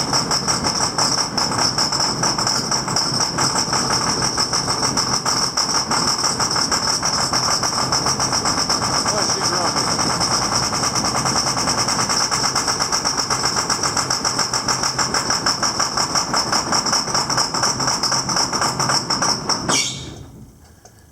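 A tractor's diesel engine, started from cold, runs loud and rough with a steady knocking clatter for about twenty seconds, then shuts off abruptly.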